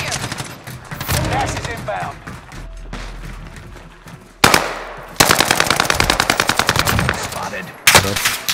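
Gunfire in the video game Warzone, with sharp automatic bursts and rapid rattling volleys, loud and close, separated by quieter stretches of in-game ambience and faint voice chatter.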